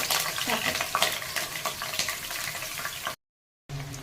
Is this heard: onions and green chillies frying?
yes